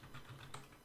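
Quick, faint keystrokes on a computer keyboard as a game command is entered, a few soft rapid clicks in under a second.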